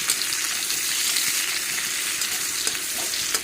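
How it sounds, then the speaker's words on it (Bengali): Dried red chilies and onion fry in a hot pan, giving a loud, steady, dense sizzle with a few faint stirring clicks throughout and no talking. "শুকনো লঙ্কা পেঁয়াজ দিয়ে দিলাম"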